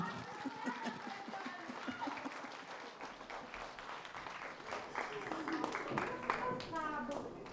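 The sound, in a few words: applause for Vilija at a concert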